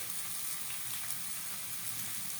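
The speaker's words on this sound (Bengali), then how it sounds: "পেঁয়াজটা হালকা ভেজে নিয়েছি, দিয়ে দিচ্ছি কুচিয়ে রাখা আলু।" Chopped potatoes added to lightly fried onion in a hot pan, a dense continuous sizzle, steady and close with no voices.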